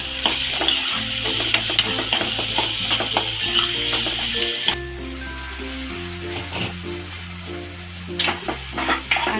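Tomatoes cooking with salt in a pan for a matki usal, a steady sizzle and stirring scrapes heard close, with a loud low hum running beneath.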